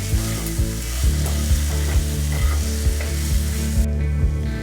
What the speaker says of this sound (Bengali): মশলাটাকে আমাকে ভালো করে কষিয়ে নিতে হবে।